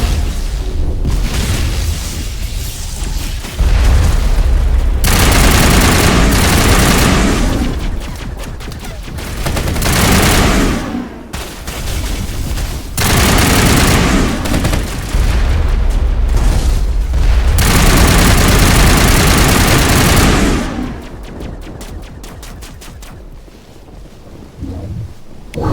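A large gun emplacement in Mass Effect fires repeatedly in long, loud, booming bursts separated by brief lulls, with heavy rumbling blasts filling the scene before it quiets at the end.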